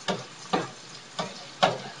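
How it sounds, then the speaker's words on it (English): Vegetables for a meatloaf sauté in a pan, heard as four short, separate sizzling scrapes spaced about half a second apart, fairly close and moderately loud with quiet hiss between them. "these are sauteing down so nicely"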